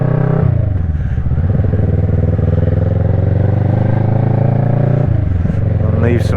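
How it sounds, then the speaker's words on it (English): A big BMW GS adventure motorcycle rumbles along nearby with a steady, continuous engine drone that holds throughout, mixed under people talking. "I think there's a big GS that's cruising around there"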